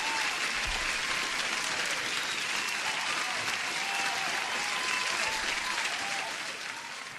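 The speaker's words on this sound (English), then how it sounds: "But one more clap to John." A room full of people claps steadily in sustained, dense applause, loud and close, tailing off slightly at the end, with no talking over it.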